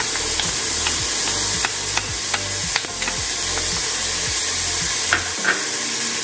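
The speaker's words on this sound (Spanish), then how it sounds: "Y con la ayuda del cucharón vamos moviendo para que no se nos vaya a quemar." Onion and garlic fry in a pot for semolina soup and are stirred with a ladle. A steady, loud sizzle is broken by rhythmic scraping strokes and a few clinks of the ladle against the pot.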